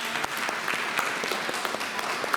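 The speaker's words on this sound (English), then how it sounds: "if we could give Simon a round of applause" Applause from an audience at a community workshop meeting on annexation, a steady dense patter of many hands clapping throughout, moderately loud with no talk over it.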